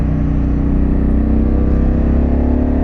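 Harley-Davidson Pan America motorcycle fitted with a Vance exhaust, a loud, close, steady low engine rumble with a pulsing beat, held at even volume throughout while riding in New Jersey.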